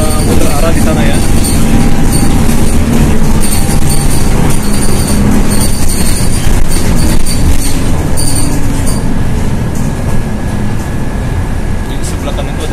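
An MRT train passing at Lebak Bulus in Jakarta, a loud continuous rumble of wheels on rails with high squealing, heard up close while someone talks over it.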